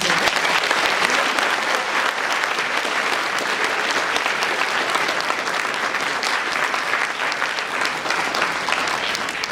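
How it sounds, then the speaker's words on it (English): A high school audience gives a steady, full round of applause after a panel discussion, dense and even throughout with no break. "Please give a round of applause."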